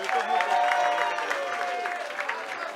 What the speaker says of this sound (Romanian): Aplauze pentru Bonel.